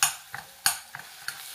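Crème fraîche goes into a hot pan of scallops and fennel, bringing a soft sizzle with several short stirring scrapes at a steady rhythm, close and moderately quiet, with no voices.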